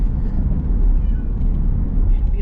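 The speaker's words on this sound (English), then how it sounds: "Be able to hear the kitty telling me she's tired of riding back there already." A cat meows in complaint from the back of a moving car, with the low rumble of road and engine noise underneath.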